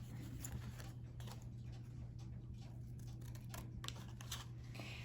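Scissors snip through pink glitter cardstock paper in quick, irregular clicks and crunches, close and faint over a steady background hum.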